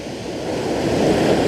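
Sea waves wash in at Felixstowe beach by the groynes of Cobbolds Point, a close, loud surging roar that swells steadily toward the end, with no voices.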